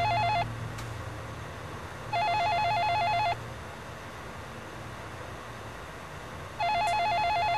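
A mobile phone rings indoors in three loud, warbling ringtone bursts separated by longer gaps, over a steady background hiss and low hum.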